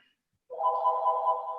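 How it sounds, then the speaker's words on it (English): A telephone rings during a council meeting, giving one steady electronic ringing tone that starts abruptly and holds at a moderate level, with no talking over it. "I got a damn phone ringing."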